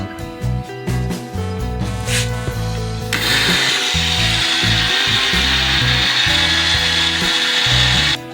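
Lime (chuna) is pounded in a stone grinder: close, heavy, rhythmic thuds repeat steadily. A rough, continuous grinding rasp joins partway through and runs under the blows to the end, with no one speaking.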